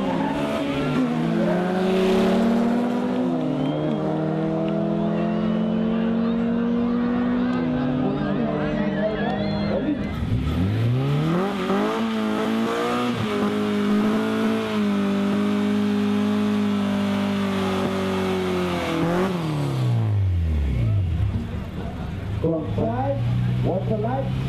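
Several cars drag racing side by side down a 400-metre strip at night, engines revving hard and rising through gears, with tyre squeal and a loud, close, sustained roar that swells again as a second pair launches; voices talk over it.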